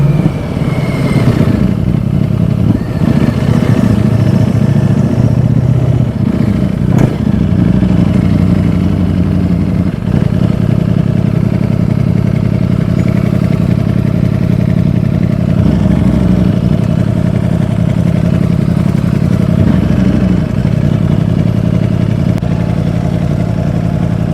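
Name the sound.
Ducati StreetFighter V4S with Akrapovic exhaust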